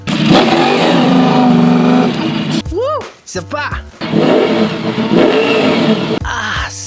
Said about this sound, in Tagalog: Definitely the best engine sound out of all the Ducati bikes.